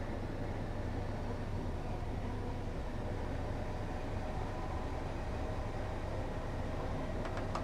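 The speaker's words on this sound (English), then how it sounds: "I've shut off the power to allow the train to coast now" Electric commuter train coasting with power shut off at around 30 mph on the East Croydon to London Bridge stopping route in Train Simulator 2016, a steady broadband rumble of wheels and running noise with a low hum, continuous and unvarying.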